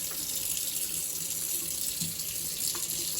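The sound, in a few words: cold tap water running to rinse cyanotype print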